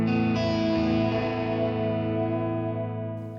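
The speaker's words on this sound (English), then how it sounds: "Here is the sound of vibrato going to both amplifiers." An electric guitar with a vibrato effect sent to two amplifiers plays a sustained chord that wavers and slowly decays, close and loud with no talking.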